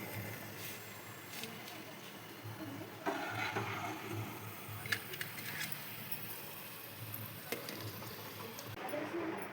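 Onions deep-frying in oil for chicken biryani, a steady soft sizzle with faint crackling and occasional clinks throughout, moderately quiet and continuous.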